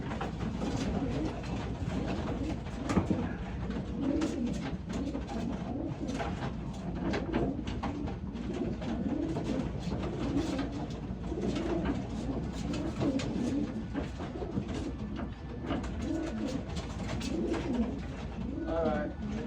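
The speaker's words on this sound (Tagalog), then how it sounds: "Nice bird." Racing pigeons coo in low, throaty, repeated calls, close and steady throughout, with people talking faintly in the background.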